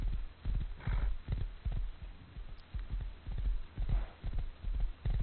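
A horse in an MMO video game trots with steady clip-clop hoofbeats in a rhythmic pattern, loud and close, with no talking.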